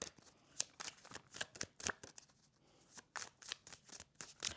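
Tarot cards being shuffled by hand, a quick run of crisp riffles and slaps in uneven bursts, close and fairly quiet with no talking.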